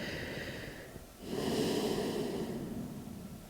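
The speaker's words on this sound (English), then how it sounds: "Take a few breaths here." Slow, steady breaths during a yoga pose with the forehead resting on stacked hands, a soft hiss of air that swells into a fuller exhale after a quiet opening moment.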